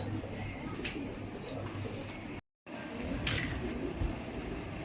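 Pigeons of a prized breed coo in a loft alongside their two young squabs, with soft repeated calls and brief chirps over a steady background hum, broken by a short total silence midway.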